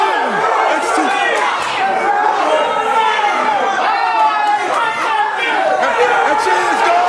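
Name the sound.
wrestling crowd reacting to a slap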